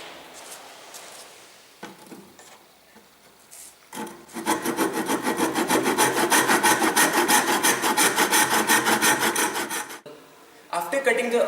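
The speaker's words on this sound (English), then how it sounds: "Now we'll cut this plank into two halves with the help of tenon saw." A tenon saw cuts a wooden plank clamped into a hook, with quiet handling sounds first and then a long run of steady, loud rasping back-and-forth strokes before a brief pause and a few final strokes.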